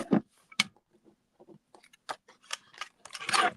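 Scissors cut down a piece of stamped paper, a series of close, crisp snips of varying loudness with short gaps, ending in a quicker cluster of cuts.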